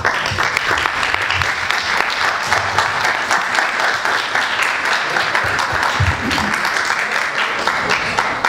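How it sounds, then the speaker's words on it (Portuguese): Applause from a seated audience at a talk on forest fires, dense sustained clapping that is loud and even throughout, with no voices standing out. "Vocês batem muitas palmas"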